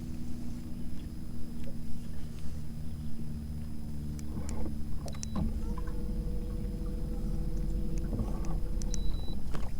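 A small outboard motor on a fishing boat, its hood off, idles with a steady low drone, joined by faint clicks and mechanical whines near the end.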